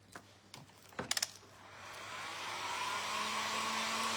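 A hair dryer blows steady, rising air over freshly painted thrifted bird figurines, preceded by a few sharp clicks and clatters before the motor settles into a loud, continuous whoosh.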